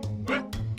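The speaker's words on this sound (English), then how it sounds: "Who's barking?" A puppy gives a few quick, close yips and barks in a short burst, with no talking.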